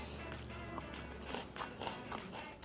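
Biting and chewing a crunchy salad of grilled corn and fresh raw snap peas, several close, quiet crunches in an uneven rhythm over a soft background.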